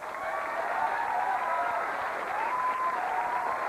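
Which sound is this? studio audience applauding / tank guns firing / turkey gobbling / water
studio audience applauding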